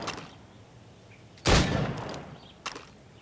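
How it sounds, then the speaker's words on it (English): Gunshots fired at targets, one loud close blast with a short ringing tail, followed later by a sharper, quieter shot, with no talking. "Go on. Shoot these targets."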